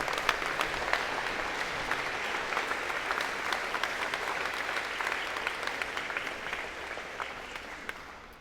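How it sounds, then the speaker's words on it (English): Steady applause from a large audience at a college of engineering and computer science convocation, continuous dense clapping at moderate distance with no talk over it. "give them a big round of applause"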